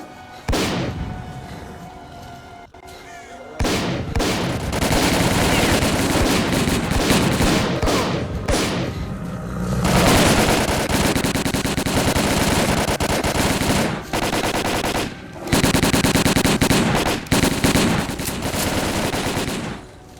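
Sustained machine gun fire and gunshots ring out in the video game Stalker: Call of Pripyat, loud rapid bursts nearly continuous over twenty seconds with only short pauses, sounding like several weapons in a firefight.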